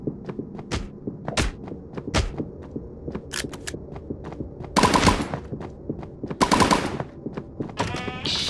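Gunfire in a horror brawl multiplayer video game: scattered sharp single shots and thumps, then two loud rapid-fire bursts near the end, with no talking.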